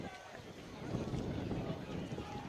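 Wind buffets the microphone at an outdoor high school varsity football game with a low, rumbling roar that rises and stays steady, with a voice faintly underneath.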